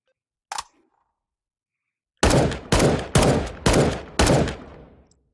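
Five loud single-fire gunshots from a gun in the video game H3VR, evenly spaced about half a second apart, each with a sharp crack and a short decay, preceded by a small mechanical click.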